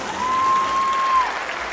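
An audience claps at a carnival dance show, a steady moderately loud wash of applause from a crowd with a faint tone running under it.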